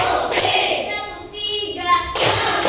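Hands clap along in a classroom counting ice-breaker game, with a few scattered claps and thumps mixed with children's voices that chant in rhythm.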